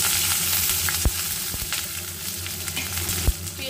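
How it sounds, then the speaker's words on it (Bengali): Onion, dried red chilli and bay leaf crackle and sizzle steadily in hot oil in a kadai for tempering, with a couple of sharp pops and light stirring clatter; no talk. "এবার ফোড়ন হিসেবে আমি এখানে দিলাম"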